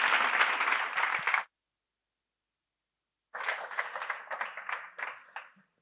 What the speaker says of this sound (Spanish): pues os pido un aplauso para Manolo Pimentel y Alfonso Jiménez.